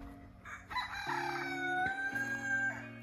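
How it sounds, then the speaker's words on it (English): A Silkie rooster crows close by: one drawn-out, strained call that rises and then trails off, with low engine-like hum underneath. "our new rooster is talking to Sean"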